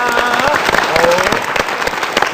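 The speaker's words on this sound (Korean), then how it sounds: "박수 부탁드릴게요." Studio audience on a Korean morning talk show clapping, a loud, busy patter of hands with scattered sharp claps, layered with some voices and background music tones.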